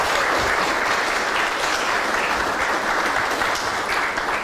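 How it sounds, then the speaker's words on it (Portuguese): Steady, dense applause from a studio audience welcoming the mayor of Guarujá, a continuous wash of clapping at fairly close range with no talk over it. "Uma salva de palmas para o nosso prefeito"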